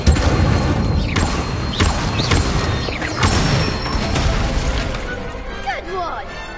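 Wand spells from a video game, including the fire spell Incendio, cast in quick succession: loud, close magical bursts, booms and swirling whooshes layered densely over each other.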